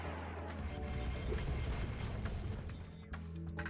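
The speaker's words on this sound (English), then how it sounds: "Okay, I can aim this cannon." Cannon fire in the video game Spyro Year of the Dragon, heavy booming blasts layered over steady game background sound and music, fairly loud and continuous with no talk.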